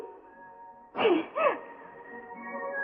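A woman sneezes once in a quiet indoor scene from a Hindi drama, a short two-part burst rising out of a soft background hum and then fading back into near silence.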